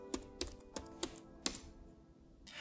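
Computer keyboard typing during a network tutorial in a terminal, a handful of distinct sharp key taps spaced irregularly, close and clear with no talking.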